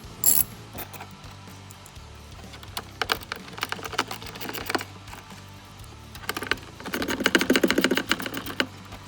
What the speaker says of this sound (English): There'll actually be 3 bolts, 1 at the top and 2 at the bottom, that you will take loose using this 13mm socket.